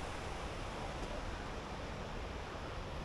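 A waterfall at the fairy pools in Langstrath Valley, Lake District, gives a constant broadband rushing roar, steady and moderately faint with no talking.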